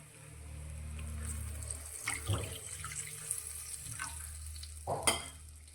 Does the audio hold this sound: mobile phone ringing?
no